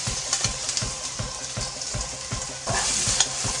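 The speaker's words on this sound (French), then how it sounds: "on met les oignons dans l'huile." Onions sizzling in hot oil in a pan, a steady bright crackle with periodic stirring scrapes, close and fairly quiet, no voices over it.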